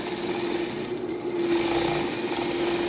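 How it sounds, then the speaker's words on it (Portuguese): Sewing machine running steadily while stitching a seam on a fabric piece, a continuous close, even motor hum with rapid needle chatter throughout, no talking. "E já posso passar uma costurinha aqui"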